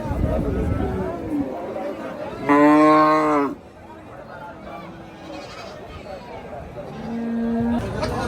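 Big Sahiwal cattle at the Hazratpur livestock market, with one loud, close, drawn-out moo rising above a busy crowd and fainter lows nearby; people talk throughout.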